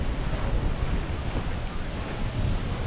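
Thunderstorm in the game Assassin's Creed IV: Black Flag, a steady broad wash of rain and low rumbling thunder, moderately loud and continuous.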